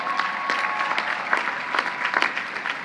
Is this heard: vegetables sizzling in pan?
no